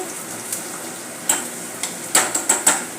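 Onion and green chili sautéing in a pan for Maharashtrian pithla, a soft steady sizzle broken by several sharp clinks and scrapes of a spoon stirring against the metal.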